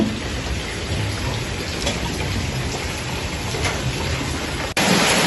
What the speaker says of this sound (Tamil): இன்னும் தொடர்ந்து மழை பெய்யுண்டு தான் இருக்குது